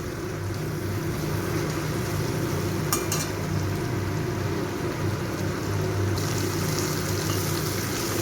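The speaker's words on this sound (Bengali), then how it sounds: "এটা একটু ভেজে নেব।" White cumin, a dried red chilli and a bay leaf fry in hot oil as a tempering for a prawn and taro curry, giving a steady, moderate sizzle with a couple of brief clinks partway through and no talking.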